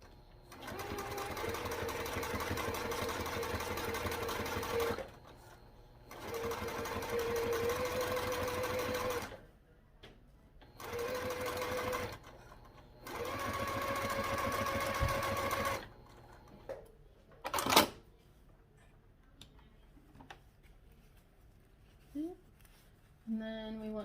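A sewing machine stitches the seam of a mini backpack in four runs of several seconds each, separated by pauses, with a few soft handling clicks afterward; close and fairly quiet.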